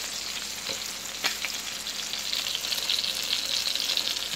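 Chicken breasts fry in a pan: a loud, continuous hiss close by, with sharp pops and spits breaking through and the sizzle growing slightly stronger toward the end, with no talking.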